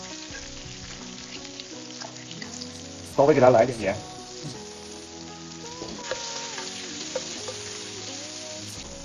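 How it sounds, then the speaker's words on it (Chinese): Red chili and garlic hit hot oil in a wok and give a sudden, brief burst of sizzling. Steady background music plays throughout, and a person talks over the cooking. "锅中烧油，我们下入这个红辣椒和这个大蒜"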